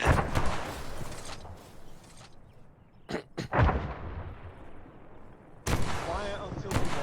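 Tank cannons fire during video game target practice: a few heavy booming blasts with long rumbling decays, separated by quieter stretches, then another loud shot near the end.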